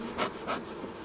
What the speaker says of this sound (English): The bees really do not like the camera.